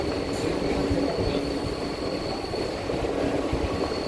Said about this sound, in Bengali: মাঝখান দিয়ে ট্রেন যাচ্ছে